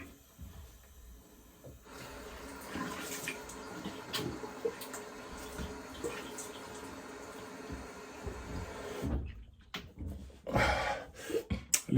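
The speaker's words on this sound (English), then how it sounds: "Leave the water on." Tap water runs into a bathroom sink during a wet shave with a Weck shavette, a steady close splashing stream that grows louder and more broken toward the end.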